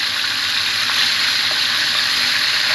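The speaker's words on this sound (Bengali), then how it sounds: "একইভাবে আমি বাকি দুটো মাছটাকেও ভেজে নিচ্ছি একদম হালকাভাবে" Koi fish fry lightly in hot oil in a pan for Bengali tel koi, giving a steady, close, bright sizzle that stays even throughout with no talking.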